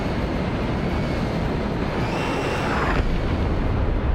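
A napalm strike in a military video game produces a loud, sustained roaring rumble of fire and blast noise with a sharp crack near the middle, steady and dense throughout.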